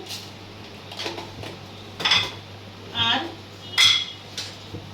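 A spoon works through mung lentil paste mixed with nigella seeds and salt in a bowl, giving a few soft clinks and scrapes spaced about a second apart over a quiet background.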